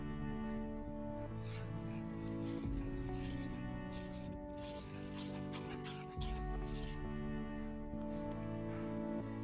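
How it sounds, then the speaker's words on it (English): A whisk stirs cocoa powder into a no-bake chocolate cheesecake mixture in a bowl, a steady soft rubbing and scraping that continues throughout with slight rhythmic swells. "Add 1 tablespoon of cocoa powder into this and whisk it all in."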